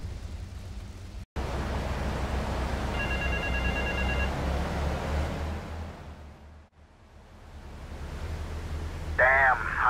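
A phone in GTA 3 Definitive Edition rings in a short burst of electronic trills over a steady background hiss, followed by a brief chirpy sound near the end.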